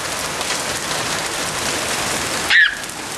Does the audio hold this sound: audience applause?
no